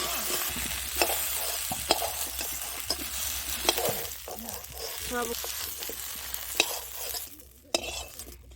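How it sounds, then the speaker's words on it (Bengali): Cut potatoes fry together with duck meat in a pan, a dense steady sizzle with occasional spoon scrapes and clinks, close up, with brief talk near the end. "ওই আলুটাও দিয়ে দেবো এর মধ্যে একসঙ্গে ভেজে নেব"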